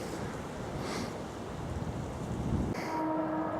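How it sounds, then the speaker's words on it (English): A South West Trains train rumbles past in the distance below a hillside near Box Hill, a low steady roar blended with wind, fading out near the end. "Very pleasant vista with a South West Trains train passing down below."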